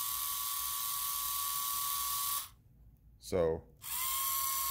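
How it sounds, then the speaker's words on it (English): A large motor spins with a steady, loud whine. The whine cuts out briefly while a short rising buzz sounds, and then it resumes. "I took the cable out of this motor, plugged it into this one, and now we're getting rotations out of this motor"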